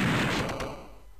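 A single gunshot in the video game Zero Tolerance, a loud close blast with a booming tail that fades away over about a second, heard alone without talk.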